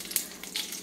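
Mustard seeds and chillies frying in hot oil in an iron kadai for a village-style koorkka masala, a soft steady sizzle with a few faint crackles, quiet and brief.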